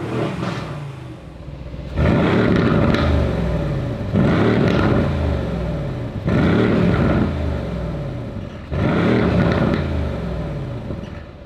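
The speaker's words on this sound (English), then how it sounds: "I absolutely love the sound of this engine." A Mercedes-AMG GLC63 S Coupé engine in Sport Plus mode revs hard in repeated bursts, four loud rising roars separated by brief dips, close and powerful, with no voices.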